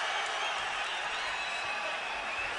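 A boxing arena crowd roars in a continuous, even ovation during a Julio Cesar Chavez Jr. fight. The sound is a distant wash with no distinct claps or shouts.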